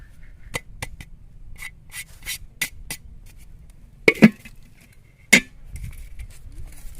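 Fish pieces are mixed by hand with chilli, coriander, turmeric, salt and cumin powder, making soft squelching rubs with a few sharper clinks and taps, close and fairly quiet, with no talking.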